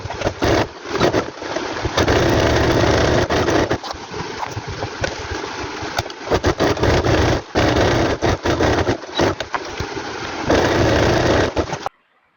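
A sewing machine stitches a cloth handbag with a steady loud mechanical whir, running in bursts with brief pauses and cutting off abruptly at the end.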